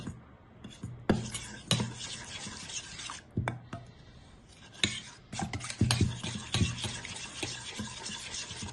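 A spoon scrapes and clatters in a pot as flour is stirred into oil for a börek sauce, with irregular sharp knocks and rasping strokes, close and moderately loud.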